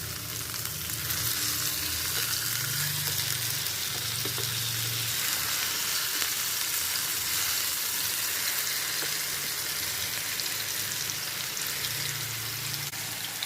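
Masala-coated fish sizzles and crackles steadily in a nonstick pan over a low flame, a loud, dense frying hiss throughout while the pieces are gently turned over.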